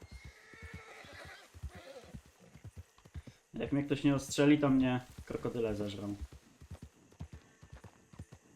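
A horse in Red Dead Redemption 2 whinnies in a loud, drawn-out burst midway while hooves clip-clop steadily through swampy ground, with someone talking before and after.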